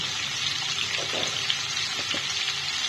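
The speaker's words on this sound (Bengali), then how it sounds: "কুমড়োটা নুন ছাড়াই ভাজবে নুন দিয়ে ভাজলে কুমড়োটা গলে যেতে পারে" Pumpkin pieces dusted with turmeric and no salt fry in a pan for a hilsa curry, giving a steady, close hiss and sizzle with faint pops. No one talks over it.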